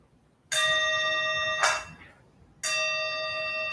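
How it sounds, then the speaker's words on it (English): A bell rung during a Buddhist service sounds twice, each clear metallic strike ringing on with a long, sustained hum in a quiet room. "Ring the bell."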